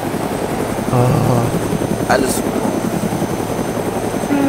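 A helicopter flying in a video game, with a loud, steady rotor drone throughout and a person speaking briefly over it.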